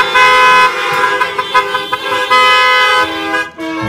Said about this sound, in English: Go ahead and give the Lord a good honk this morning.